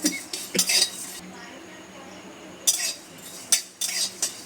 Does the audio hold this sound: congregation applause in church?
no